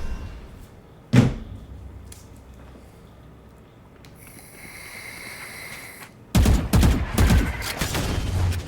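Video game gunfire in a multiplayer dinosaur match: one sharp, loud shot early, then a burst of several rapid, punchy shots near the end over a low background hum.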